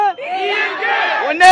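A crowd of TVK political supporters, many of them women, shouts and cheers in unison at a rally, a loud, close, sustained chorus of raised voices lasting about a second.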